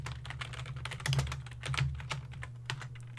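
Steady typing on a computer keyboard while entering JSON code, a quick, close run of key clicks continuing throughout with no talking.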